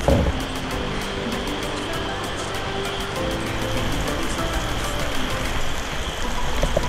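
Rain falls steadily at Banaue in the mountains, a constant close hiss with faint scattered patter and a low background rumble, with no talk.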